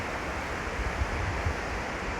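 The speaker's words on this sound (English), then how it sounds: "There's that river I just showed you." A flowing river gives a steady, broadband rush of water, moderately loud and constant, with faint low rumbles rising now and then beneath the wash.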